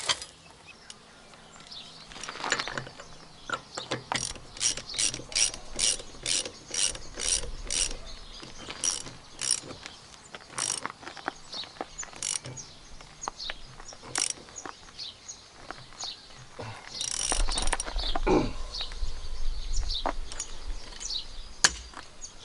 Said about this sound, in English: So there you go, Torque Multiplier. You can use it to either tighten or loosen.